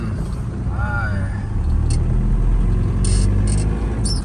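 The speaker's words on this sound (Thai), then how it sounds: "ไปดูอัตราการเร่งกันตอนขับแล้วกันนะครับ" A cheap pickup truck drives along, its engine rumble and road noise steady and close throughout, building slightly as it accelerates, with a brief whistle-like tone early and faint clicks later.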